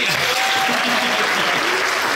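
Loud, thick applause from an audience at a regional science fair finals award ceremony in Quebec, sustained throughout with a voice speaking faintly over it.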